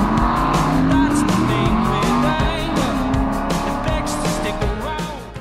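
A wrecked Aston Martin Vantage drives hard along a winding mountain road of hairpins, its engine loud and close with shifting revving tones and tyre squeal, easing slightly toward the end.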